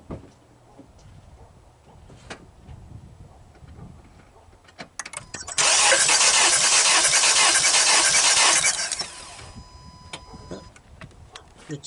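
A Honda CR-V engine cranking over with the fourth spark plug out during a compression test, a loud steady churning burst of about three seconds that stands out from quieter background ticking and clicks.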